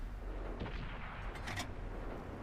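A tank cannon shot in the console version of World of Tanks, a loud booming blast that rings out around the half-second mark with a second crack soon after, over a steady low engine rumble.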